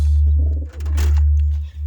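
Pigeons, some of them young squabs, coo softly near a loft with a heavy low hum underneath, close and fairly loud, with a brief rustle partway through and no clear speech.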